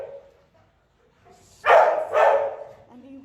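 A stressed shelter dog barks two loud, close bursts in quick succession after a quiet stretch, then falls to a soft whimpering sound.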